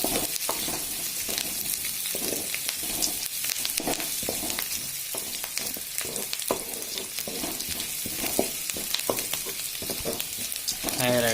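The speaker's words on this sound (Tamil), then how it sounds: "நல்லா வதங்கிட்டு வருது. இப்போது பச்சை மிளகாய் சேர்த்துக்கிறோம்." Green chillies and onions sauté in a pan with steady, loud sizzling and frequent scraping stir strokes throughout, with no talking.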